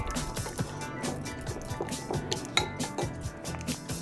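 Olive oil and freshly squeezed lemon being mixed for a Caesar dressing, with repeated light clinks and scrapes of a utensil against a bowl in a steady stirring rhythm, close and fairly quiet.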